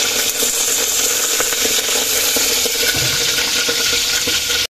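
Eggplant omelette frying in hot oil gives a steady, loud sizzle with scattered splattering pops and faint clinks throughout, with no voices.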